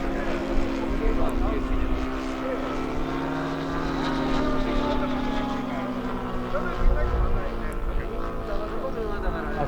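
A radio-controlled model airplane circles overhead with a steady buzzing propeller drone that holds throughout, while people talk nearby.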